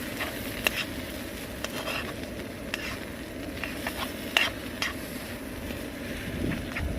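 Food is stirred in a pot at an outdoor winter camp in the rain, with soft scraping and occasional spoon taps over a constant patter and hiss of wind and rain, nearby and without talk.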